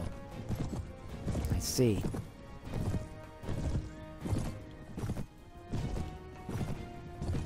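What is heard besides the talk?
horses galloping in battle, video game Mount & Blade Warband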